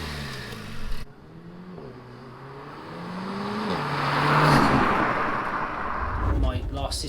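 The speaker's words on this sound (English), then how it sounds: "It sounds good, it's got the whooshy sounds, the intake sounds that you want, but it's not too abrasive" A Renault Megane RS Trophy with a K-tec intake system pulls through the gears, engine note rising and dropping across shifts with a building intake whoosh, loud and close inside the car, a voice heard briefly.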